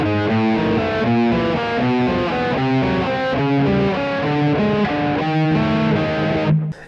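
Heavily distorted electric rhythm guitar plays a steady run of chords climbing up into the chorus of a rock song, loud and close, with no talking, ending abruptly.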